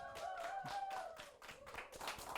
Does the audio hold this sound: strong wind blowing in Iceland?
no